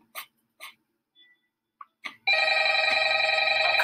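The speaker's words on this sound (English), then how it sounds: "Yeah, I think that's the telephone." Telephone ringing after a few faint taps and breaths, a steady loud electronic ring that starts abruptly partway through and continues to the end, close and alone.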